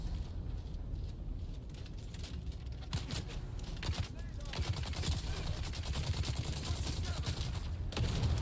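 Gunfire in the video game Dune Awakening during a base raid, with repeated rapid shots crackling over a low rumbling background that grows denser and louder toward the end, and a voice talking in places.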